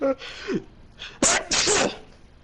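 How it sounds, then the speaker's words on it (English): A person sneezes twice in quick succession, preceded by a short sharp intake of breath, close and loud. "I'm sneezing so much."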